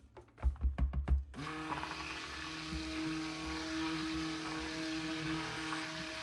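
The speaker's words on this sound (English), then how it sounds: "we are going to buzz this up with our stick blender" A steady electric motor whir runs continuously after a few short pulsed bursts, a stick blender buzzing through thick cold process soap batter with banana, oats and honey, fairly quiet and close.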